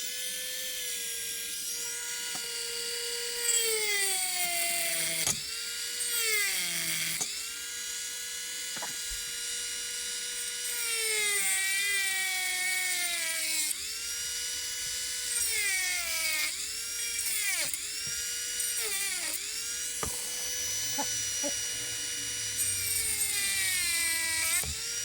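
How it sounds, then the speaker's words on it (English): A Dremel rotary tool grinds out a hole in a pinball flipper part with a high, whining buzz in repeated bursts, pitch sliding down under load and rising again, close and fairly loud, with brief pauses between passes. "So we'll get the Dremel out so I can make a mess."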